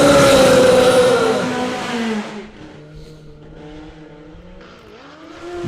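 A drag racing motorcycle launches hard down the strip with a loud, close, rising engine roar that quickly fades as the bike pulls away. A fainter engine hum from further off follows.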